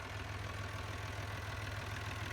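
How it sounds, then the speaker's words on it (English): A tractor engine idling at steady low revs, a continuous even rumble with a faint regular knock, fairly close and alone without any voices. "let's turn this tractor off"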